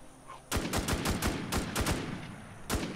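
Gunfire in the survival shooter The WarZ: a rapid string of sharp, loud shots in an irregular burst, then a pause and one more shot, close and dominating the mix.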